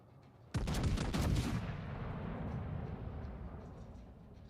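A warship's main battery guns fire in World of Warships: Legends, a sudden loud salvo of several rapid close blasts that rolls into a long fading rumble with no talk.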